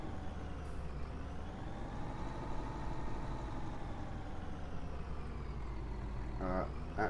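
A tractor of over 400 horsepower in the Farming Simulator video game, hitched to a cultivator, idles with a steady, even engine drone throughout, joined by a brief hiss near the end.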